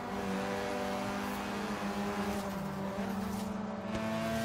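Mazda RX-7 and Lotus racing cars in Forza Horizon 3 hold a steady, loud engine drone throughout, a continuous engine tone with slight shifts in pitch and no speech.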